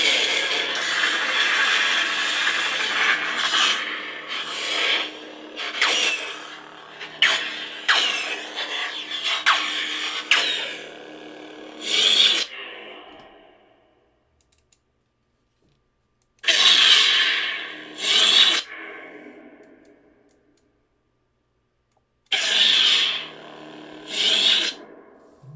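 An SF Bane MKII lightsaber produces a sustained, crackling blade lock-up effect that runs for about twelve seconds. It then breaks off into shorter sizzling bursts with silent gaps between them, and no one speaks over it.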